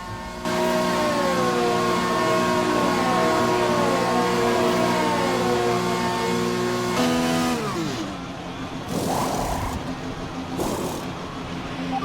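Formula 1 race car engine in the F1 2020 video game, a loud steady high-pitched whine with harmonic tones through a pit stop, shifting and dropping in pitch near the end as the car pulls away, with no talk over it.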